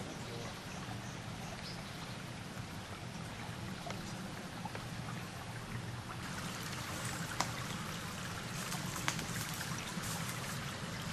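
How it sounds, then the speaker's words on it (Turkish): Şahnağan Creek in the Şahnağan neighbourhood of Yeşilyurt, Malatya, flowing steadily, a continuous broadband rush of running water close by with a few faint clicks and no talk. "Burası da Şahnağan Deresi."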